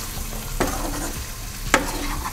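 Potatoes sautéing with pepper in a pan on a slow flame give a soft steady sizzle, broken by two sharp scraping stirs of a spatula, close up.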